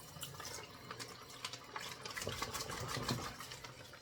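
Tap water running and splashing while a plastic bag is washed in a kitchen sink, a steady close gurgling stream with crinkly handling noises and no talk.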